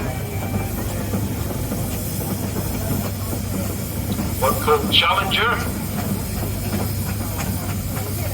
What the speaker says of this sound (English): Our first Showman's engine coming in.